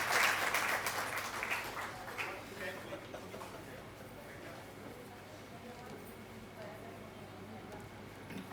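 An audience claps to welcome a member of parliament to the stage at an International Girl Child Day event, a burst of applause that starts loud and thins out over several seconds under a steady hum.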